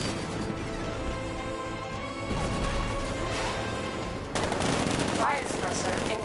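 A tank cannon fires in a Batman video game, heard as loud crashing blasts over a constant roar of game noise. A sharp step up in intensity midway and another near the end mark the heavier impacts.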